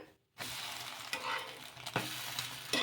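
Small chitti dosa batter sizzling and frying in oil on a hot pan, a steady bright crackle with a few louder spits, no voices.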